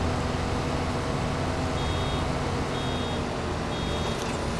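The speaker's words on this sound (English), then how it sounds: "you can see it doesn't take long before the baler's beeping to let you know that it's full and it's ready to unload." Baler in the Farming Simulator 22 video game giving a few evenly spaced high beeps to signal a full bale, heard over a steady loud hum of farm machinery.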